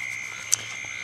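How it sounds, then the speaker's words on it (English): At night, frogs croak and crickets chirp, with a steady high insect trill and one sharp, close croak standing out briefly. "when you hear the frogs croaking and the crickets chirping"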